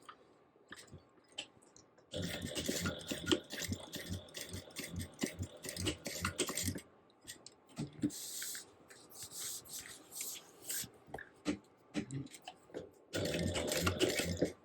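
A sewing machine stitches in bursts of rapid, buzzing runs, with quiet pauses and small handling clicks between them, close and clear.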